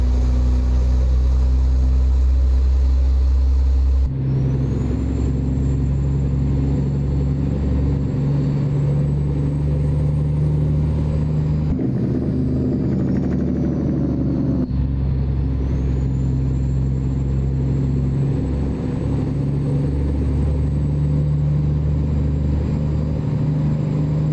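A straight-piped truck engine in American Truck Simulator, its baffles cut out, drones with a steady low rumble close up. The pitch shifts after a few seconds and rises and falls gently, with no voices.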